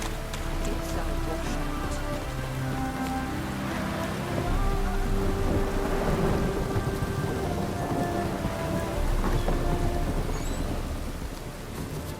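Rain and thunder in the video game Witcher 3, a steady downpour spattering on surfaces with low rolling thunder building and fading underneath, dense and continuous throughout.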